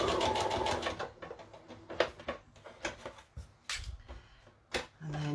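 A sewing machine stitches ribbon onto a fabric crown, running in short close bursts of rapid mechanical clatter separated by brief pauses.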